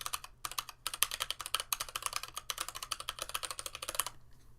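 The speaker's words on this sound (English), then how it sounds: "If I type on it on the regular keys," Rapid clicky keystrokes from a mechanical keyboard, typed in quick uneven bursts with a short pause near the start, close and fairly quiet.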